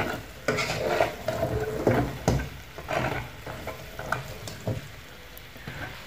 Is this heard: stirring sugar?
yes